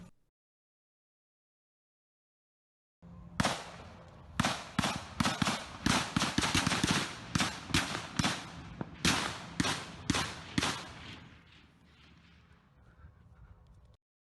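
Gunfire is exchanged in the Amazon rainforest amid gold-mining violence: after a silent start, irregular bursts of sharp, loud shots crack in rapid clusters, then fade to a fainter rustling tail.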